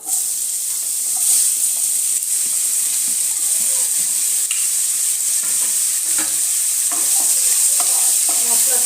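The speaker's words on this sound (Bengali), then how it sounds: "হালকা একটুখানি ভেজে নিব লাউটা" Bottle gourd frying lightly in a pan for a prawn and gourd dish gives a steady, close, bright sizzle that holds evenly throughout, with occasional soft stirring scrapes and no voices.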